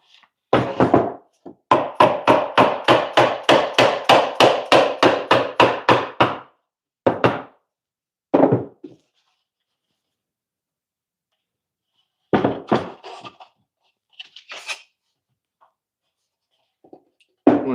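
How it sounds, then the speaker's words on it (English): A hammer drives a snug scrap-wood piece into place on a homemade screw organizer: a quick run of about twenty even, sharp knocks, then a few separate strikes with pauses between them, all close and clear. "Let me get a hammer."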